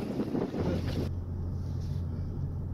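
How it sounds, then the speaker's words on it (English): Wind blowing outdoors on a cold, snowy day, a loud rushing gust for about a second that drops abruptly to a low steady rumble. "it's a little windy outside and it's kind of cold"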